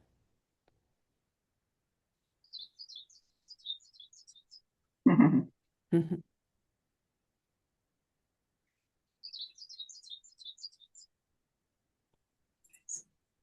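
A woodland ovenbird gives two bursts of rising, repeated high chirping phrases, separated by a few loud low thumps and a faint murmur of voice.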